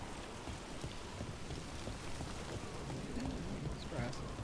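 Soft, steady rainfall patters in the video game Dragon Age: The Veilguard, a quiet continuous hiss without talk.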